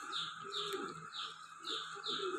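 A very young injured pigeon chick that cannot walk gives soft repeated calls, about five short chirping cries in a steady rhythm, close and quiet against a still background.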